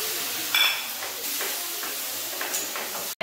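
Spice paste of ginger, garlic, chopped tomato and ground spices mixed with water hits hot oil in a pan while cooking ghugni, giving a steady broadband sizzle with brief stirring scrapes, close and continuous, no talking.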